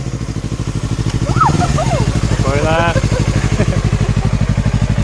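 A new Yamaha R3 sport motorcycle's engine runs with a steady, loud pulsing throb throughout, heard close up while people speak over it.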